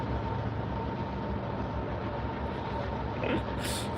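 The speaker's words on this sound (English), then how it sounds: "So many fucking trains today, dude." Train rumble passing by, a steady low broadband roar with a faint high squeal near the end, continuous and moderately loud throughout.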